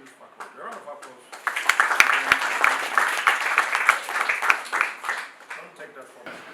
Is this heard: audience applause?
yes